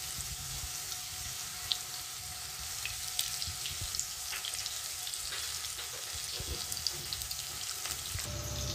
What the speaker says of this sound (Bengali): এবার আলুগুলো ছেড়ে দিচ্ছি। আলুগুলো আগে ভাজা হয়ে যাবে।